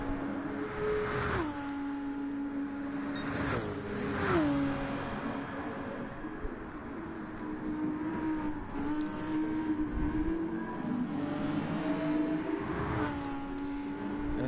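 Porsche race car engine in a racing video game on a highway circuit, a steady high-revving drone with repeated gear shifts and pitch drops, continuous and fairly close.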